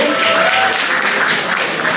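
Steady applause from the audience at a 25th wedding anniversary function, loud and continuous throughout as the honoree comes up to the stage.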